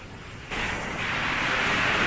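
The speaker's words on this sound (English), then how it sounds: "Just hear the sound of the waves crashing." Waves break and wash onto the beach at Sheringham, Norfolk, on an October day, a steady broadband rush that swells louder after the first half-second and holds with some wind noise.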